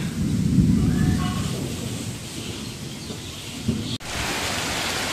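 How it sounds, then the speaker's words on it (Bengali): Thunderstorm with rain and gusting wind in a rural village setting: a loud rumbling thunder roll rises early, then steady rain hiss continues, broken by a sharp crack near the end. "তো এখন যে বৃষ্টি শুরু হয়ে গেছে, বৃষ্টির বাতাস, তার সাথে হচ্ছে বিদ্যুৎ চমকানো, আকাশ প্রচন্ড ডাকাডাকি করতেছে।"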